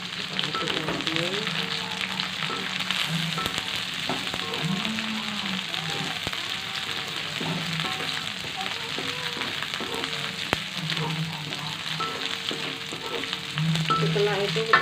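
Red and green chilies sizzle and crackle in a hot pan as they are stir-fried for a stir-fried green bean and pumpkin dish, a continuous close hiss with occasional scrapes and clinks of the spatula.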